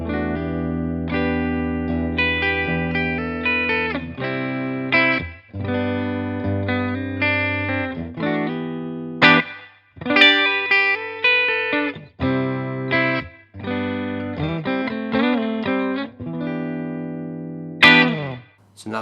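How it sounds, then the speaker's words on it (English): Vintage V6H Silverburst electric guitar on its bridge humbucker, played through a Blackstar Studio 10 amp, ringing out loud chords and riffs with a slightly driven tone, pausing briefly between phrases, alone with no talk. "I'm going through the Blackstar Studio 10 6R6 that you see behind me there."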